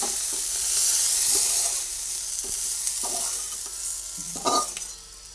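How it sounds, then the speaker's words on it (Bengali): Salted okra frying in a pan (kadai), stirred: a loud, continuous sizzle with intermittent scraping strokes of the spatula, the last one sharper, near and without voices. "নুনটা দিয়ে ভালোভাবে একবার নাড়াচাড়া করে পুরো ঢেঁড়সটাকে"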